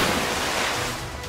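Rushing water in a Pokemon Sword gym puzzle, a loud, steady broadband roar of flowing water filling the whole short moment without any voice.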